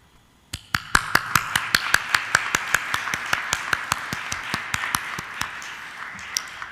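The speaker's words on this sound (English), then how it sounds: "And I think we need to applaud their work." Audience at a seminar on gendered disinformation claps in rhythmic unison, a steady run of sharp, evenly spaced claps starting abruptly and continuing for several seconds over faint room ambience.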